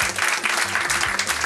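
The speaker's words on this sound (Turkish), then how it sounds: "Perşembe rakı balığı da bir alkışlayalım." Studio audience at a Turkish quiz night breaks into steady, dense applause, loud and close, with low tonal hum and faint voices underneath throughout.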